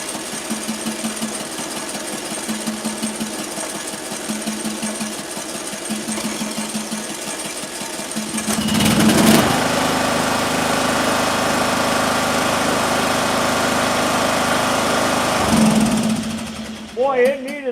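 A small engine cranks and then runs with a buzzy, steady drone that grows louder partway through and cuts out at the end, with voices over it.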